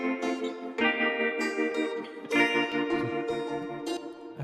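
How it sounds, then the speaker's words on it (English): A spacey electric guitar in an indie folk song, drenched in heavy ping-pong delay and tremolo, ringing sustained chords that swell and repeat with echoing tails, played alone without voices. "So here, this like spacey guitar effect."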